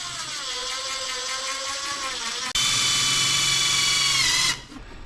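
A power drill runs continuously while driving screws during a 1930s bathroom renovation, its whine briefly cut, then resuming louder and higher before stopping near the end, close and steady.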